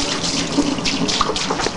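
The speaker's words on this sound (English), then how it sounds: "Now we're going to rinse her off." Running water splashes steadily while a pet is rinsed during a bath, a loud close continuous gush with small bursts and variations in flow.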